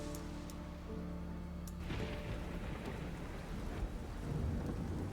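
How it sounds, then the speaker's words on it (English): A gentle roll of thunder rumbles low and distant beneath steady rain, building softly after a sustained musical drone fades, with no talking. "you hear a gentle roll of thunder"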